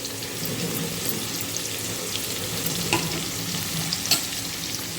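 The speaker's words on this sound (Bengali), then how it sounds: "খুব ভালো করে আলুগুলো ভাজবো" Potato pieces sizzle steadily in hot oil, seasoned with a pinch of salt, turmeric and red chilli powder, with a few sharp stirring scrapes breaking through the continuous close frying hiss.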